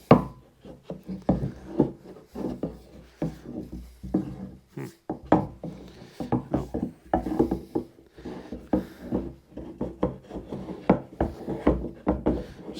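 A rag wrapped on a wooden dowel scrubs around inside an old fuel tank from a 1980 Dodge W200. It makes rhythmic, close scraping and rubbing strokes with hollow knocks, repeating steadily throughout.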